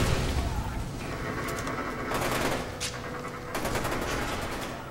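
Bursts of gunfire in the shooter game Fear 2, loud and close, with several dense volleys and a sharp crack partway through, all over a steady rumbling game background.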